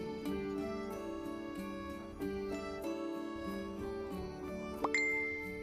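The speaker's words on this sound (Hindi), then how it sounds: "तभी उसके फोन में एक नोटिफिकेशन आया।" A mobile phone notification chime rings out as a clear, bright series of tonal dings and tinkles over a steady musical background, with a sharper rising tone near the end.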